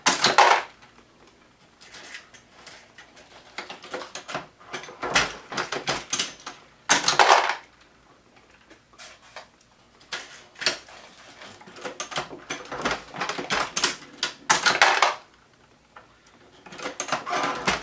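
Loadmaster reloading press cycling, its handle worked in repeated strokes that give bursts of metallic clanking and clicks as it indexes cases between stations, with quieter mechanical rattles in the gaps.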